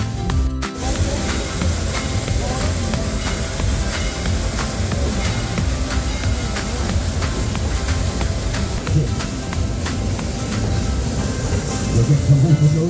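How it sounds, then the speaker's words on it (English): A logging locomotive climbs a steep 8.5 to 10.5 percent grade near Santa Cruz with a continuous, heavy mechanical rumble and rattle. The sound stays fairly close and swells slightly toward the end. "But this is a logging locomotive, so not just any locomotive can go up the track that we have here in Warren Camp."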